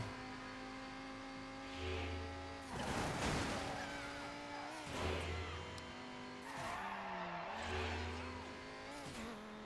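Racing car in the Midnight Club: Los Angeles video game, its engine droning and revving steadily while tires skid and screech in several loud bursts, with gear-shift dips between them.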